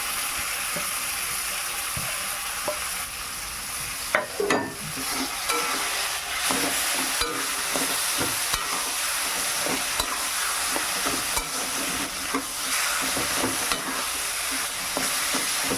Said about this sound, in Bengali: এইবারে আমি কলাটাকে ভালোভাবে ভাজতে থাকবো।